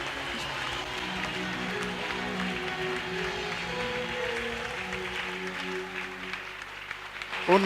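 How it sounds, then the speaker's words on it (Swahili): Church congregation applauding during a worship service, a steady wash of handclaps running throughout at moderate level with music or voices underneath, rising slightly at the end. "Mshangilie tu Yesu kwa makofi."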